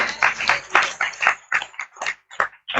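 Congregation clapping hands in thanks to the Lord at an evening healing and deliverance conference, a series of irregular bursts of applause-like claps close by, with no talking.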